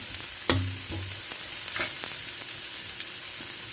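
Garlic, shrimp and pork stir-frying in a pan, a steady sizzle with a few sharp scrapes and clacks of a utensil, fairly quiet and close, with no talk.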